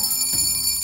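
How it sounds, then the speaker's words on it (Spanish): A small handbell rings with a bright, sustained metallic tone that holds steady throughout, alone and fairly loud. "cuando veas algo, toca esta campanilla"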